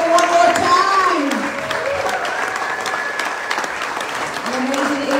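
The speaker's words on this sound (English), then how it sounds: "let's give them a round of applause one more time!" An audience at the Taste of David's Refuge 2022 charity program gives a round of applause, steady dense clapping lasting several seconds while a voice speaks over it through much of the stretch.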